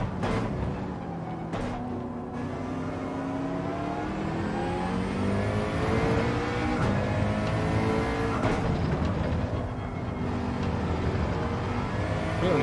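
A McLaren race car in Gran Turismo 7 roars steadily throughout, its engine note rising and falling as it revs and shifts through corners, with faint tire noise and no talk.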